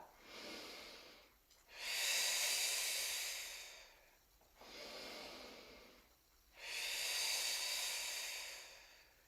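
Deep, forceful breaths during a gait and balance exercise class, two long hissing exhales and inhales alternating in a slow steady rhythm, close and fairly soft, with no talking.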